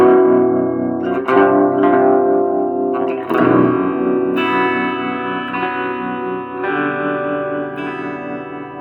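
Electric guitar played through a harmonizer mini pedal set to detune, giving sustained, shimmering doubled chords and notes that ring out loud and alone, with a few fresh strums across the passage.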